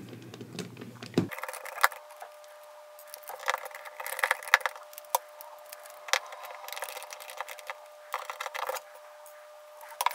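Tiny Phillips 1.0 screws being backed out of an iPhone 5 with a driver bit: a steady faint whine with scattered light metallic clicks and taps, close and quiet, no talking.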